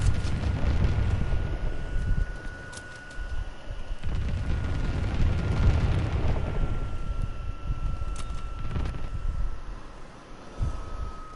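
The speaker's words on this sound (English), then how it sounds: "Sending mortar rounds." Mortar rounds explode in a World War II shooter game, heard as a continuous deep rumbling barrage with heavy low booms that swell and fade, plus a thin steady tone running underneath.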